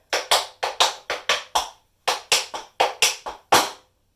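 Tap shoes strike a hard floor in a crisp sequence of about a dozen sharp, ringing taps, a shuffle and heel pattern ending in a heavier stomp, with a short pause midway.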